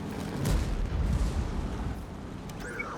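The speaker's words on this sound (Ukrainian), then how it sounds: "Також ми бачили, звідки стріляла арта." Artillery shelling in World of Tanks, a deep rumbling boom that rolls for a couple of seconds before fading, followed by faint mechanical whirs, with no speech over it.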